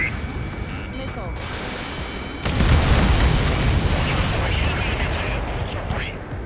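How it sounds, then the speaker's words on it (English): Missile launches and explosions in the Ace Combat 7 jet combat game, a steady roar that jumps into a loud, dense rumbling burst midway and keeps booming under faint game voices. "Missile away"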